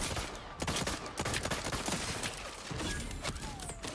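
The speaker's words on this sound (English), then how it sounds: "Just hip firing this bitch." Video-game gunfire from a weapon fired from the hip, loud rapid bursts of shots in close succession with brief gaps, filling the whole stretch with no talking.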